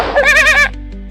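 A voice imitates a young kid goat, giving a single wavering, nasal bleat with a vibrato-like tremble that cuts off abruptly, leaving quiet background.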